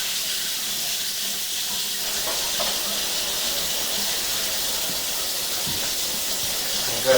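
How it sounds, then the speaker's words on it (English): Water runs steadily from a sink tap and a cold shower in a house during a sewer line inspection, a constant hissing rush at close range with no talking. "turn on the sink, some cold water in the shower"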